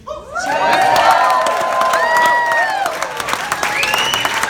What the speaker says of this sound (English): One more time, a big round of applause for Danny and for Zach